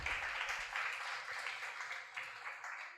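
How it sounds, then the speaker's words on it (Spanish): Congregation at a church service applauding, a dense steady wash of many hands clapping that stays fairly even and moderately distant throughout. "Dale un aplauso al Señor."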